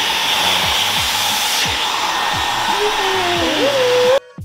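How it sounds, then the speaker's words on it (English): A hair dryer blows hair dry in a salon, a loud steady close whoosh that runs almost four seconds before cutting off abruptly, with faint pulsing tones beneath. "so it takes a while to blow dry"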